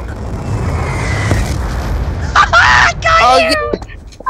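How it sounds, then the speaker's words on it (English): A Hellstorm missile strikes in the Black Ops 2 video game, a deep rumbling boom that swells then fades, followed by a voice talking over the tail of the blast. "Hellstorm missile inbound"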